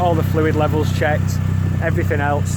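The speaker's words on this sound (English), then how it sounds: "You can hear the exhaust purring at the back." Idling exhaust of a Mitsubishi Lancer Evo 6, a steady low rumbling pulse heard throughout beneath someone talking close by.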